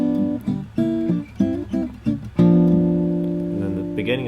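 Acoustic guitar plays the opening melody of a tune, with short plucked phrases and then a sustained ringing chord, close and clear.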